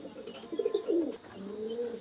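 A breeding pair of golden pigeons coos softly near the microphone, a couple of rolling low calls over a faint steady background hiss.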